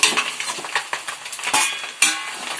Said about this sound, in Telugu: బిగిసిపోయి వీటిని అయితే బాగా కలుపుకుందాం.